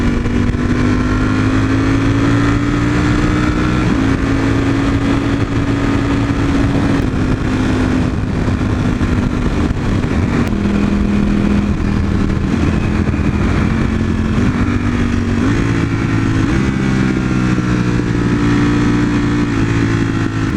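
A loud engine runs steadily with shifting pitch as it climbs and drops through gear changes, continuous and close throughout.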